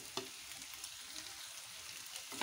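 Finely chopped tomatoes frying with softened onions in a pan for aloo gobi matar, a steady close sizzle with occasional light stirring scrapes, moderately quiet and without speech.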